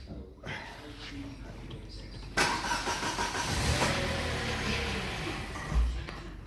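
An MG3 car engine cranks and catches after a timing chain replacement, surging into a steady nearby idle with a brief rise near the end, while a person talks close by.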